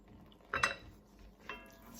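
A spoon scrapes and clinks against a pot while pecorino and leek risotto is stirred, with one sharp metallic clink near the start and a softer knock after it over quiet kitchen background.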